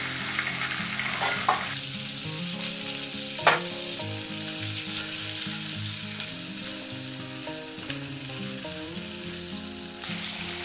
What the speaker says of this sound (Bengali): এবার আমি এই তেলের মধ্যে দিয়ে দেব একটা মাছের মাথা